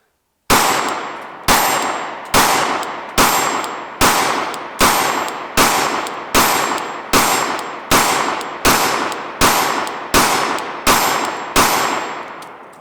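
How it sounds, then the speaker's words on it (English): A steady series of about fourteen loud gunshots from a Glock 44 pistol, evenly spaced roughly a second apart, each with a sharp metallic ring from a struck steel target downrange. "we're just gonna shoot this thing at the steel down there"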